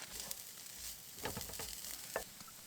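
Finely chopped bacon and minced garlic fry in a pan at a winter campsite, a quiet steady sizzle with a few stirring scrapes and light pops, close but soft, no talking.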